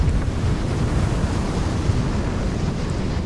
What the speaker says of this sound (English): The wind and ocean state seemed to only deteriorate.